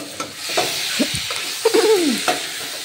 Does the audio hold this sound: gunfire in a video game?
no